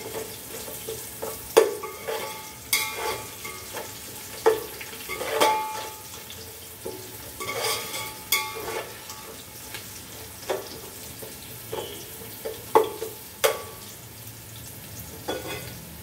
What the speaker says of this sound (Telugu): వేగినాయండి ఉల్లిపాయ పచ్చిమిరపకాయ ముక్కలు